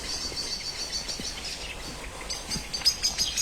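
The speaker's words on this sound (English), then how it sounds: "You can hear the blackbirds kicking off." Blackbirds calling at dusk on a South Downs evening, with faint, distant chirps and thin high notes over a soft, steady outdoor hiss that grows slightly busier toward the end.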